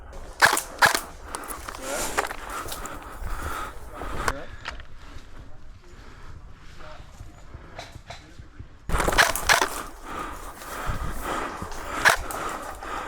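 Airsoft guns fire during an outdoor skirmish, sending sharp, snappy cracks in scattered bursts, some close and some farther off, while players call out and talk throughout.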